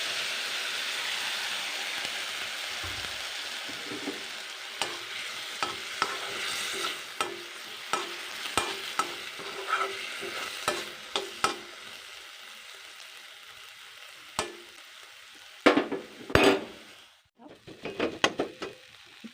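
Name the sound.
tomatoes cooking with a little water in a pan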